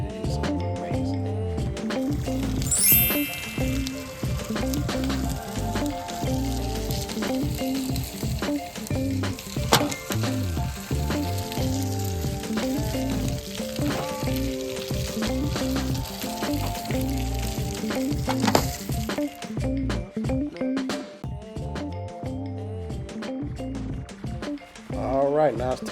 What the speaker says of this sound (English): I'm going to stop talking for a second so that you can hear this sizzle real quick while I take it off the fire.